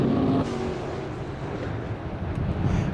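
The Eldorado Speed Shop IMCA modified race car roars around the dirt oval at Central Arizona Raceway in Casa Grande, a loud continuous engine drone with wind buffeting the microphone and no talk.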